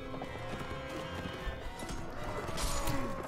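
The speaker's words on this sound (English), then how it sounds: "Crashing on the horse." Horses thunder through a melee battle in the game Mount & Blade: Warband, with steady galloping hoofbeats, neighs and crashing impacts layered over busy background clatter.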